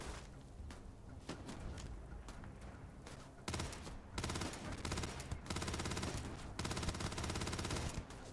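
A turret in the video game Starfield fires rapid, sustained bursts of automatic gunfire. The rattling volleys grow louder and denser midway, with brief gaps between long runs of shots.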